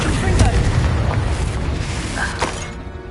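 A Reducto spell blast in the Hogwarts Legacy video game erupts in a loud, dense booming burst, rumbling continuously with sharper cracks flaring near the start and end.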